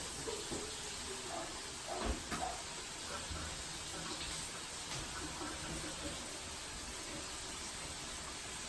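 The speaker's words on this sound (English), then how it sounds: "Let me wash these off real quick." Sliced mushrooms rinsed under running tap water in a home kitchen, a steady faint hiss of flowing water with a few soft splashes and handling noises.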